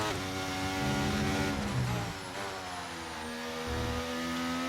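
An F1 race car in the F1 23 video game drives at speed, its high-pitched engine whining loudly and shifting pitch through gear changes, with other cars audible nearby.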